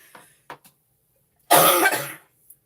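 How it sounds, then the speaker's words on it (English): A person with an illness coughs in one harsh, loud burst after a few small throat sounds, then quiet. "hopefully the medicine I have will improve this coughing"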